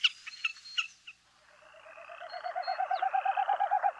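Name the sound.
bird's winnowing display sound from wind through tail feathers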